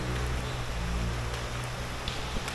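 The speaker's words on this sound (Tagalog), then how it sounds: "Lalakad kami ni Paxi sa ulan" Rain falling outdoors during a walk with a Dutch Shepherd, a steady soft hiss of drops on surfaces, faint and continuous with no talking.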